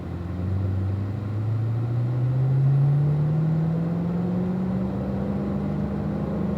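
A car rolls onto the Spring Mountain racetrack with its windows up: a steady low engine hum slowly rising in pitch as it picks up speed, heard from inside the cabin.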